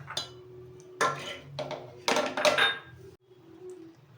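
A pressure cooker handled in a home kitchen while boiling peas and potatoes: a few close metallic clanks and knocks in separate bursts, then a quieter stretch, with no talking.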